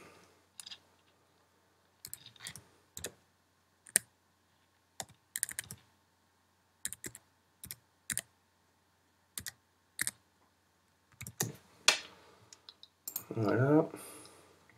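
Card numbers being typed on a computer keyboard in short bursts of sharp key clicks separated by pauses, ending with a longer louder rustle or handling noise.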